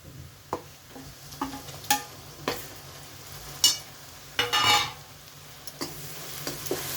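Ground masala paste sautés in oil for a spicy stuffed crab dish, with a low continuous sizzle broken by repeated sharp spoon scrapes and clacks against the pan.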